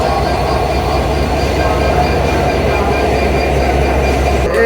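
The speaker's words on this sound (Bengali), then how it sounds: "ট্রেনটির নাম হচ্ছে পঞ্চগড় এক্সপ্রেস" Panchagarh Express train at an airport railway station at night, a loud continuous rumble of rolling wagons and wheels on rails that fills the whole stretch with steady clatter.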